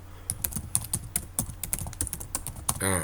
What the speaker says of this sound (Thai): ตรงนี้ เราก็จะมาพิมพ์อะไรดี